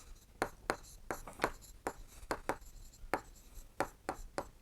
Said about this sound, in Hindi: तो लिखेंगे यहाँ दोनों संख्याएं